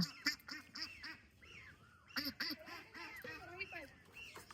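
King ducks by the water give a string of short nasal quacks and honks, several birds close by in uneven bursts, with a brief pause in the middle.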